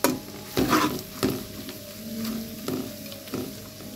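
Bitter gourd fry sizzles steadily in a pan on the stove, with several sharp stirring scrapes and clinks punctuating the hiss at irregular intervals; no voices.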